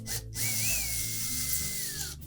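A power driver runs screws into the top door hinge of a Whirlpool refrigerator, a short, close whirring burst whose pitch rises and then slides down.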